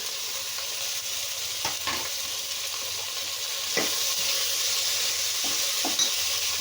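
Tomatoes, two brinjals and potatoes being stirred in a hot pan, a steady sizzle broken by several scraping spoon strokes against the metal, close and clear with no talking.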